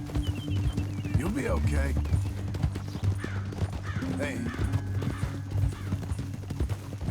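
Horse hooves clip-clop in the western game Red Dead Redemption 2, a steady walking rhythm beneath a low ambient hum, while someone talks quietly to the horse over it.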